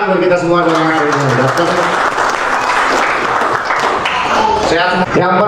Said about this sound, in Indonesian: Tepuk tangan buat kita semua dalam hari ini.